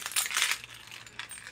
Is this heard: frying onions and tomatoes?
no